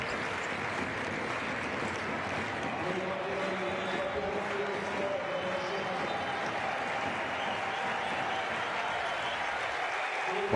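Crowd applause at a professional basketball game as a player leaves the court, a steady broad wash of clapping and arena noise under talk throughout.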